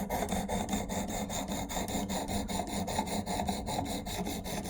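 A Benchmade Claymore knife is sharpened on a Work Sharp Precision Adjust guided sharpener, making a steady, rapid run of close, even rasping strokes that continues without pause and with no talking.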